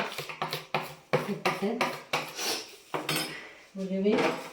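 A spoon scrapes and clinks against a metal pan while lime pickle with fenugreek is stirred, a run of sharp, close metallic taps and scrapes in uneven rhythm.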